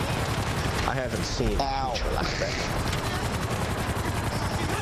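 Rapid video-game gunfire rattles continuously as weapons shoot at a harmless creature, a dense barrage of shots running the whole time while a voice talks briefly over it.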